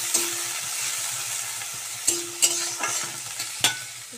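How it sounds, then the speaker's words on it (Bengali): Bitter gourd fries in hot oil with a steady sizzle, while a spatula scrapes and clacks against the pan in several sharp knocks at irregular intervals. "এবার আমি করলাটাকে ভালো করে তেলের উপরে ভেজে নেব"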